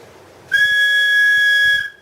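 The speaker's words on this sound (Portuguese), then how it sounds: "O velho puxou um apito do bolso e apitou." A whistle is blown once, a sharp sustained tone starting abruptly and holding steady for about a second and a half before cutting off, loud and close with no talking.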